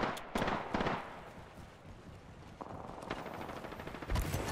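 Rapid automatic gunfire in the Apex Legends video game, dense bursts of shots with sharp transients rolling through the clip at moderate loudness, with no talk over them.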